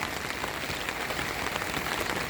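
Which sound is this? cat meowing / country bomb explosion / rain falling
rain falling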